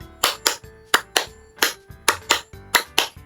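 Children clap their hands in an ice-breaking classroom game, nine or so sharp, even claps in a steady rhythm, close and loud with brief pauses between, no voices over them.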